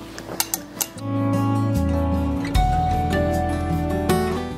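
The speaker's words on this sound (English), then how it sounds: "we'll just slide over our napkin ring as I drop a spoon" A spoon dropped onto a table place setting strikes in a few quick, bright metallic clinks, then gives way to steady background music.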